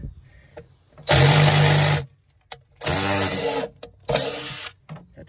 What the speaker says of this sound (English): And I've got a drill.